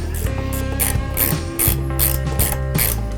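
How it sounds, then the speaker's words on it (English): Ratchet wrench clicking steadily as nuts are tightened on a dolly bracket against a frame, a close, rhythmic run of sharp ratcheting bursts with no talking. "Use the ratchet wrench and secure the nuts tightly."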